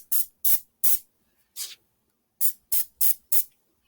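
A spray bottle gives eight short, sharp hissing squirts in two quick groups, close and crisp against silence.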